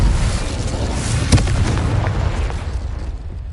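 A Confringo spell explosion in the game Hogwarts Legacy, a loud rumbling boom that rolls on steadily with a sharp crack near the middle before slowly fading.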